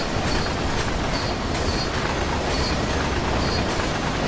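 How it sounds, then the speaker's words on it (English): A long, high-speed freight train rushes past on the Spessart ramp in the Train Sim World game, a loud, continuous roar of rumbling wagons with rhythmic clickety-clack of wheels on rail joints. "there's this freight train coming down"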